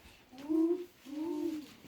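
Owl hoots play as a sound effect in a theatre performance: two separate, mellow, drawn-out hoots, the first a little stronger, with a short pause between them and a quiet background.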